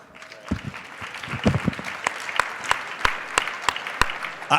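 An audience claps, a scattered round of applause with sharp individual claps that thins out toward the end.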